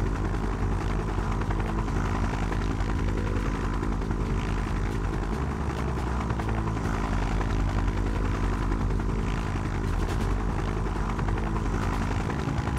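Helicopter in the video game Just Cause, a steady, continuous rotor and engine drone that stays loud and even throughout with no pauses.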